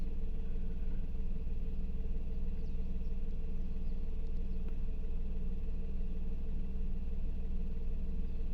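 Steady low engine drone heard from inside a Perodua Axia E car, a constant rumbling hum with no talking, unchanging throughout.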